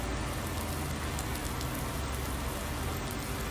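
Constant in-game rain from Landwirtschafts-Simulator 19 on a farm map fills the scene with an unbroken wash of pattering drops, moderately loud and uniform, with no voices over it.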